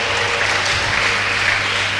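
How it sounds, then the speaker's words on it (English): Church congregation clapping during a Sunday service, a steady dense wash of applause from a large crowd that holds evenly for two seconds without speech. "I thought you would clap to the Lord for"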